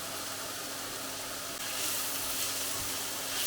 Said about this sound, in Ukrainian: Додаємо моркву та підсмажуємо хвилинки 2-3.